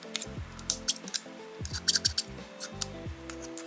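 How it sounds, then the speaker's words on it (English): A small pair of travel scissors is handled up close, giving a scattered series of light metallic clicks and snips with brief pauses between them. "A pair of travel scissors."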